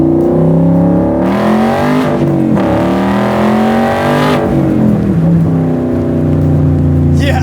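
Loud Gen 3 Coyote V8 engine of a Shelby Cobra replica revving close by, pitch climbing through gears with sharp shifts, then dropping and rising again as the throttle reopens.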